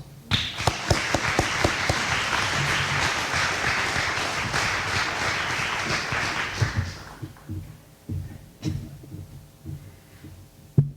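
Applause from a ceremony audience welcoming a speaker to the podium at a ribbon-cutting event, dense steady clapping for about seven seconds, then thinning to a few scattered claps and a soft room hum.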